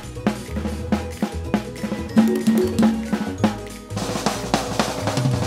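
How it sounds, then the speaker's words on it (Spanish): Hand drums pound out a lively rhythm alongside a clanking cowbell, loud and steady, part of an upbeat percussion groove with no voices. "Oye los tambores que mis primos golpean."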